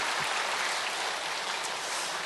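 A church congregation at a Friday late-night revival service for volunteers claps together in a dense, even wash of applause, moderately faint and unbroken, with no talking over it.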